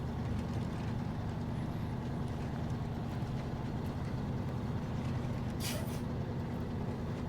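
Heavy truck engine in the SnowRunner video game, hard mode, pulling a trailer: a steady loud low rumble throughout, with a brief airy hiss of air brakes near the end.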